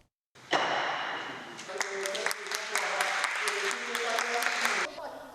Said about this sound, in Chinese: 县议会听到掌声